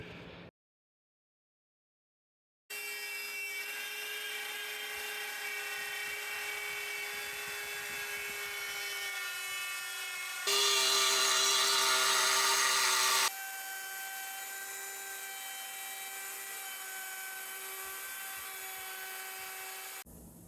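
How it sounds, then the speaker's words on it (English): A router with a small 1/4 inch spiral bit cutting a circle in white oak gives a steady, high, whining tone. It starts after a short silence, runs continuously and swells louder for a few seconds in the middle. "You don't need to have a huge bit when you're cutting a circle."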